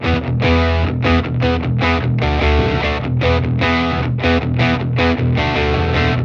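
An electric bass fed through a distortion pedal, dense loud buzzing notes plucked in a continuous driving pattern with harsh clipping throughout, close and without any voices.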